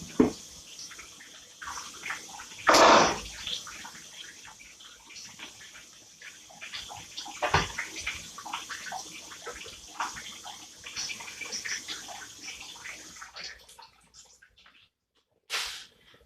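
Tap water runs and splashes while kitchen utensils are rinsed, with intermittent gushes, drips and clinks at close range, a louder splash near the start and a brief burst near the end, without talk.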